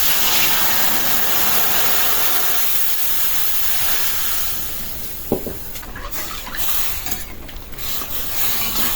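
Water poured into a hot pan of fried dried fish, giving a loud broad sizzling hiss that steadily fades over several seconds, punctuated by a sharp clink and a few bursts of crackling near the end.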